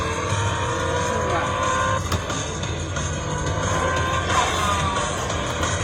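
A car passes close by, its engine and tire noise swelling and fading over a steady traffic rumble, with people talking throughout.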